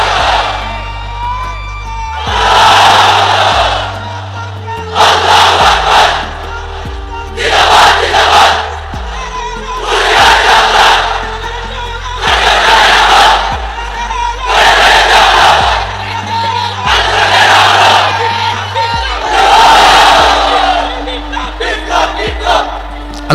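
A large crowd at an Islamic religious gathering under a pandal chants the takbir in unison, in loud, regular roaring bursts about every two to three seconds, each separated by a short lull.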